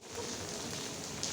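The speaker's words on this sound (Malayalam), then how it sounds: "എന്നിട്ട് അവസാനം മഴ" Rain falls in a steady, even hiss during an outing with friends, a continuous wash of drops with no voices over it.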